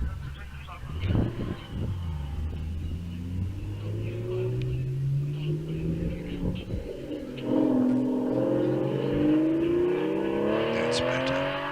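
An Aston Martin DB5 engine revs and rumbles at a hillclimb, a steady mechanical drone rising and falling in pitch with a louder surge of revs late on, with faint talk beneath.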